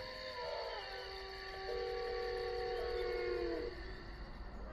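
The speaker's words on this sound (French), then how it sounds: "Donc c'est le loup qu'on entend au tout début." At the start of an electronic song, a wolf howl sound effect rises into a long, sustained, wavering tone that holds for a couple of seconds before fading, heard alone over a faint background.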